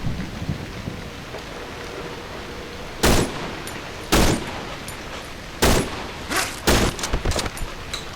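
Gunfire in the horror video game Cry of Fear: four or five sharp, loud shots spaced about a second apart over a faint rainy background hiss.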